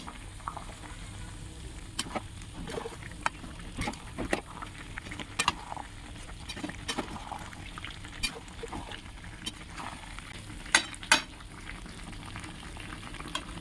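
Potato and soybean curry with sour yogurt bubbling and sizzling in a pan while being stirred, a steady soft simmer with scattered small scraping clicks, fairly quiet with no talk.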